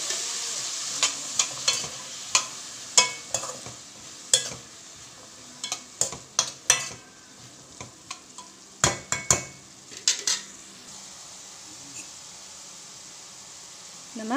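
Small onions, a quarter kilo, fry in a pan with a soft continuous sizzle, broken by repeated scraping and clattering stirs of a spoon against the metal at an uneven pace.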